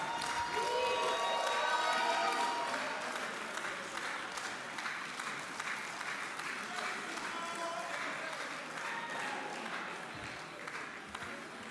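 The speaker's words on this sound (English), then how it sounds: "Let's clap in place." Many hands clap together in a dense, sustained round of applause at a Lagos Business School executive education graduation ceremony, loudest early on and easing slightly, with scattered voices and a little cheering underneath.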